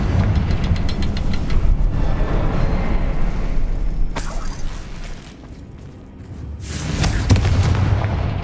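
A Confringo blasting spell explodes in Hogwarts Legacy, booming loud and alone with a deep rumble, followed by a second sharp burst a few seconds later.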